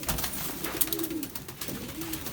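Soft pigeon cooing from a pink-coloured pigeon, a couple of low throaty coos in a row, close by over a faint background hum.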